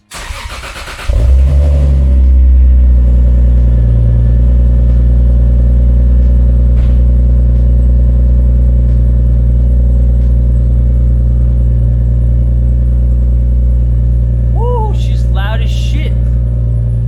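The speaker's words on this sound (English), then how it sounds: "A little cold start for the boys." Toyota Supra cold start, a brief starter crank that catches into a loud, steady, deep idle rumble held close by for the rest of the time, with a faint voice briefly heard near the end.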